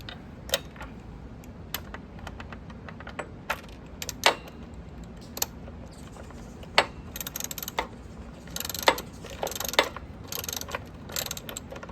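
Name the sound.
socket wrench ratcheting to tighten 10mm bolt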